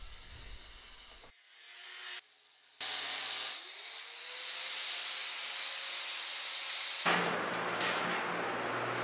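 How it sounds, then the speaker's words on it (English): An abrasive cutoff wheel slicing a door opening out of the metal body of an outdoor wood-fired pizza oven and smoker, a loud, continuous, close grinding whine that winds up, briefly stops and restarts, then rises to a harsher, brighter roar near the end. "Finally ready to cut the door out. I'm happy to say that's the last thing I'll be using the cutoff wheel for."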